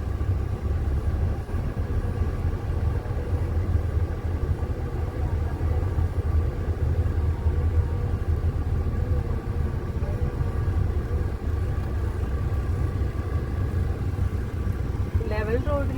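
A car engine laboring uphill with the accelerator pressed during a driving lesson in Kerala, giving a steady, close, low rumble that holds for the whole stretch while voices talk over it.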